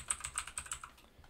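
Computer keyboard typing while coding JavaScript, about half a dozen quick, close, quiet key clicks in an uneven rhythm that tail off, with no talk.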